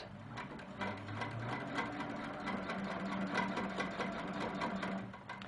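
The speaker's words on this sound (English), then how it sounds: "Now I'm going to stitch across." A sewing machine stitching across a quilt border runs steadily at close range, with a continuous whirring motor hum and a quick, regular needle clatter throughout, with no speech.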